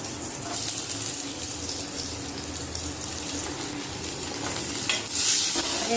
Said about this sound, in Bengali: পেঁয়াজ রসুন আদা লঙ্কা ভেজে দিচ্ছি